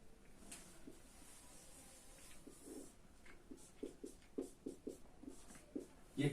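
Chalk or marker scratches across a classroom board during a maths lesson on trigonometry, a run of short, fairly faint strokes that grow brisker and louder toward the end, with soft room noise beneath.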